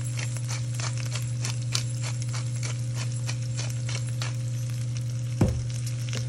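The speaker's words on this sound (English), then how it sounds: "we're just gonna give this a good stir. Get everything nice and coated" Brussels sprouts with Italian seasoning, salt and pepper being stirred in a sizzling pan, a loud constant frying hiss with a regular pattern of spoon scrapes and one louder clunk near the end.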